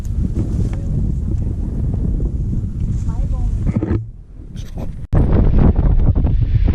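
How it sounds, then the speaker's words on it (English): Strong mountain wind buffets the microphone with a loud, steady low roar, briefly dropping before gusting hard again; a voice speaks faintly beneath it. "Super windy."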